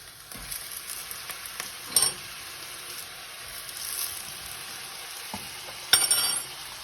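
Tomatoes go into roasted peppers frying in a pan for a meat sauté, giving a steady sizzle with stirring scrapes and two sharper clinks and bursts of hissing.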